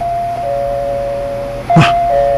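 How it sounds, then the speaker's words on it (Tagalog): A doorbell rings at a house, a sustained electronic tone holding steady before a brief sharper knock-like clack near the end, loud and close with no talk. "Nag-doorbell na sila."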